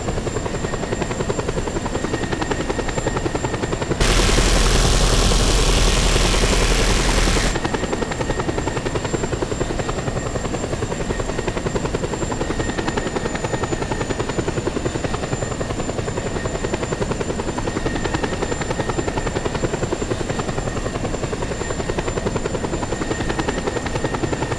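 Steady, loud helicopter drone with a constant rotor buzz in the video game Just Cause 2, continuous throughout with a brief harsh noise burst near the start.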